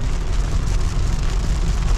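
Heavy rain falling outdoors at night near the Kennedy Space Center during a storm with lightning: a loud, dense, continuous wash of drops, close by, with no voices.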